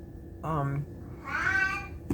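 A pet cat gives two short meows against a steady background hum. The second meow is longer and higher than the first.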